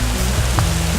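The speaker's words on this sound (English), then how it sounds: "It's hailing!" Hail falls in a dense, continuous hiss during a mountain storm in the Pecos Wilderness near Truchas Lakes, close and loud, with a low rumbling wash underneath and no voices.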